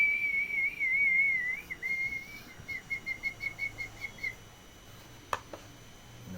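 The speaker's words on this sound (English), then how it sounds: "I have two different whistles that I've recorded." A person whistles a wavering tone, then a run of short repeated pulsed notes, clear and fairly close, played back as a recording, followed by a single sharp click.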